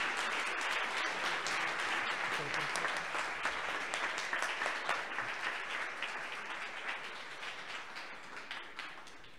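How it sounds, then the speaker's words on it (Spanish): An audience at a women-in-data-science talk applauds a speaker with steady clapping from a roomful of people, sustained and gradually thinning toward the end. "un fuerte aplauso por favor para nuestra ponente"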